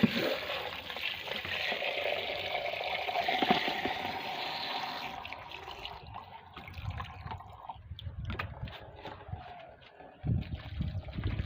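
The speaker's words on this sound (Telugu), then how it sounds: "ఇంకా కొన్ని వాటర్ పోస్తాను." Water pours steadily onto garden plants, a continuous splashing wash that thins and softens halfway through, followed by scattered drips and light handling noises.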